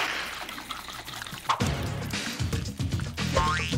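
Whipping cream sloshes inside a jar being shaken by hand to make butter, with uneven liquid splashes and a few knocks against the glass.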